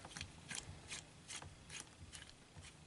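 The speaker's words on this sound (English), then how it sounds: "Get these two screws in." Screws are driven by hand into a MoDel-002 upgrade part on an MP-13 Soundwave Transformers figure, a quiet, steady run of small ratcheting clicks repeating about twice a second.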